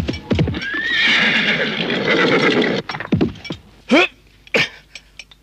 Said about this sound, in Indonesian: Kuda itu berhenti di dekat mimbar, di mana Pramoda Wardani dan Rakai Pikatan sedang berdiri.